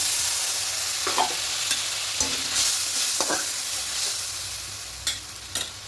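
Mustard masala for a fish curry fries in a pan, giving a continuous low sizzle broken by a few sharp clinks and scrapes of a spoon stirring.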